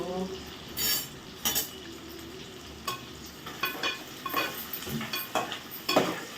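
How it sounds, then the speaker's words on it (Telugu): Onions and green chillies fry in a pan for an Andhra fish curry, a low sizzle under intermittent clinks and scrapes of a ladle against metal, fairly quiet and close. "ఉల్లిపాయలు వేగుతూ ఉంటాయి."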